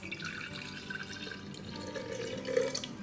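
Leftover sugar water trickles and drips as it is poured into a jar of banana syrup, a steady close liquid splashing over about three seconds with no voices.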